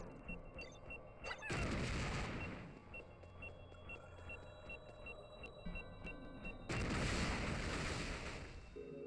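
Two bomb rock explosions burst in the video game Hey Pikmin, each a loud booming blast spaced several seconds apart, with lighter game chimes and effects in between.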